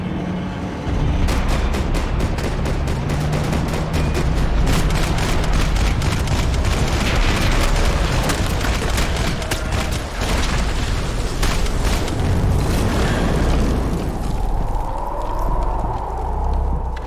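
Gunfire from the Max Payne 3 video game, a sustained stream of rapid shots and impacts under a dense, loud action soundscape, fading into quieter ambience near the end.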